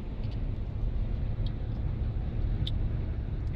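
A 2015 Ram ProMaster City van drives past and turns, a steady low engine and road rumble at moderate distance, with a few faint higher clinks over it.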